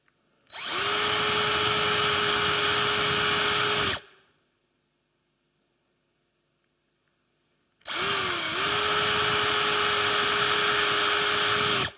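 A power drill with a 3/16 brad point bit boring through wood in two separate bursts, each a loud, steady, high-pitched whine lasting a few seconds, split by silence, close and without speech.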